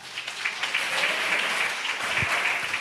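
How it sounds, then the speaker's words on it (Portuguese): Church congregation applauding during a discipleship training service, a steady moderate patter of many hands clapping throughout, no voices over it. "Pode aplaudir Jesus."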